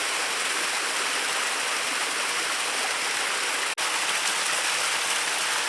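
A waterfall in Missouri rushes with a steady, dense broadband roar, near and unbroken apart from one brief dropout.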